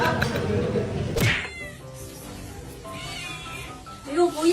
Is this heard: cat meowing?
yes